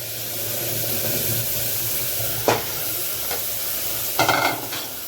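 Spice masala for a Kolkata-style mutton curry fries in oil with a steady soft sizzle, while a utensil stirs and scrapes the pan with a sharp knock midway and a cluster of clanks near the end.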